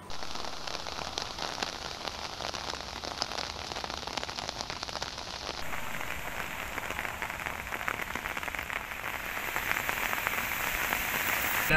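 Monsoon rain falling in Goa, a steady dense patter of drops on surfaces that builds slightly louder toward the end, heard alone without voices.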